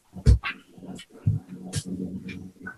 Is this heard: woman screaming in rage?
no